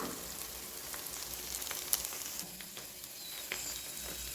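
Ivy gourd (kovakka) pieces fry in hot oil with a constant close hiss of sizzling, dotted with small pops and crackles and an occasional stir.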